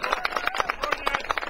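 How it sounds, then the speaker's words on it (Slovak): Brief burst of quick, fairly even hand clapping from an audience applauding a children's folk ensemble, close and lively, lasting under two seconds. "Áno, zaslúži si potlesk."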